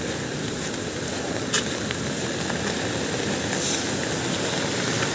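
Strong river water rushes through an open floodgate on a river in Tanay, Rizal, a loud, steady broadband roar with no pauses and a brief sharp knock partway through.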